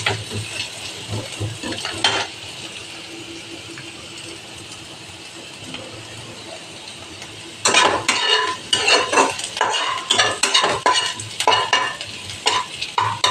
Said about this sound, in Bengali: পেঁয়াজটা ভালো মতন ভাজা হতে থাক